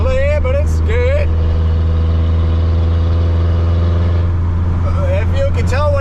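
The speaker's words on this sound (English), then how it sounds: "Driving it home for the first time. It's got a bit of an exhaust leak" A truck with a slight exhaust leak drones steadily and loudly as it drives, with a deep, continuous low rumble under occasional talk near the start and end.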